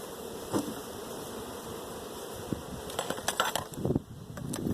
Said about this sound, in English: A lot of bees in here, not a whole lot of brood yet